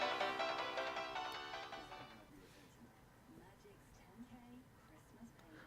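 A phone in the Steins Gate 0 visual novel rings loudly with a bright repeating electronic trill for about two seconds before cutting off, leaving quiet room noise and soft speech.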